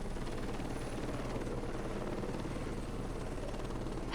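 A helicopter in the game Heliborne drones with a steady, dense rotor and engine roar throughout, close and unbroken, with no talk.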